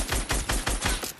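Five or six punchy video game gunshots fired in fast, even succession, loud and close, with no talking.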